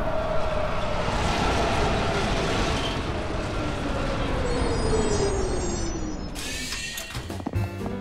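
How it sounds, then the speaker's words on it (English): A cartoon subway train pulls into the station with a loud, continuous rumbling roar and a descending whine as it slows, ending with clanking and squealing brakes. "Oh, good, the train's here."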